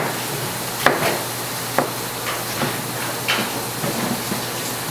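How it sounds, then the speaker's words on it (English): A kitchen knife dices tomatoes on a cutting board for a Southwestern-style bibimbap, giving a handful of irregularly spaced, fairly close knife taps over a steady low background hiss, with no talking. "I'm going to just start off by dicing the tomatoes."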